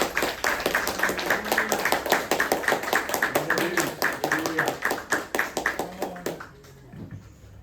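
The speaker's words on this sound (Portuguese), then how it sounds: "Palmas para Jesus." Congregation clapping in a church service, a dense run of hand claps steadily filling the space for about six seconds before tapering off, with voices mixed faintly underneath.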